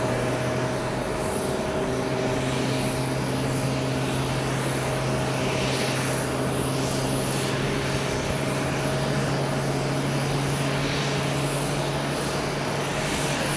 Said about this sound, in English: Start up with 7-8 in front of us, Japan Airlines, 788.